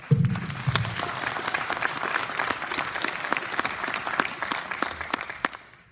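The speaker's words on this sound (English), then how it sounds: "I think we should give ourselves a round of applause just for that." Sustained round of applause from a graduation ceremony audience, dense steady clapping filling the hall for about six seconds without speech, fading slightly at the end.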